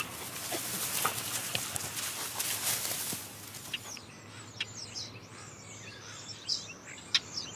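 A starling courting a female, its song of repeated chirps and whistles over a steady outdoor hiss at an airport, with rattling and clattering scrap-metal noises in the background.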